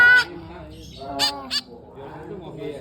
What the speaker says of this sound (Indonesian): Kasih makan Mas Dede, kasih makan burungnya.